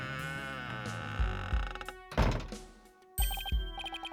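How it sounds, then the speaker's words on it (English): A doorknob bangs into a wall in Phoenix Wright: Ace Attorney - Dual Destinies, several loud thunks breaking through tonal game music. "The doorknob banged into the wall."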